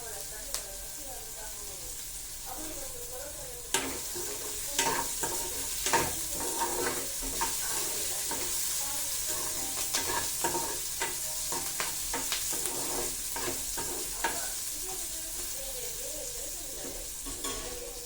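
Onions frying in a pan for a long stretch, with a steady sizzle broken by frequent scraping and tapping stirs, close by; a voice murmurs faintly at times.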